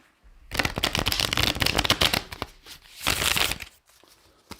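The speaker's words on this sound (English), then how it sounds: "So, 8th riffle shuffle, 4th overhand." Playing cards are riffle shuffled close by: two rapid fluttering bursts of snapping cards, separated by a short pause, with no voices.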